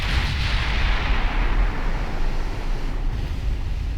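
Naval gunfire in Ultimate Admiral Dreadnoughts arrives as a heavy, rumbling boom that rolls on into a long, noisy wash of distant thunder, loud at first and slowly fading.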